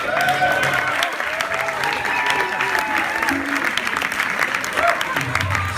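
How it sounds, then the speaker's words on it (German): Open mic crowd at Plaza Zurich applauding performer Ayo Hope, with continuous loud clapping throughout and voices and whoops mixed into the crowd noise. "fetten Applaus für den Ayo Hope."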